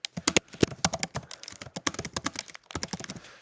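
Quick, uneven keystrokes clatter on a computer keyboard nearby, a burst of dense clicking with brief pauses between runs of keys, and no voice over it.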